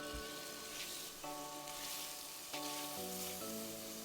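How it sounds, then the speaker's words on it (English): Sliced pork belly sizzles in oil in a pan, a continuous bright crackling hiss that stays even and close throughout over a low background hum, with no speech. "Add in the sliced pork belly, season with a touch of salt, then let the pork crisp until brown bits form on the bottom of the pan"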